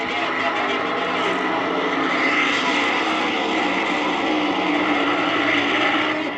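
Fuel-burning 3,000-horsepower funny car drag racing engines at the 1971 AHRA Summer Nationals, a loud, steady, dense roar sustained throughout with no breaks.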